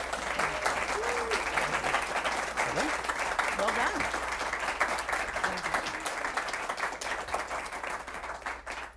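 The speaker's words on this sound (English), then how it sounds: "Let's have a round of applause." A round of applause from the audience at the close of a city council candidates' debate, with brisk, sustained clapping filling the room and a brief spoken remark heard over it.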